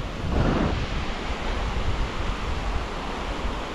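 Rough sea waves rolling in during net fishing off the Philippines after a typhoon, a loud broad wash of surf with wind buffeting the microphone, one stronger swell near the start.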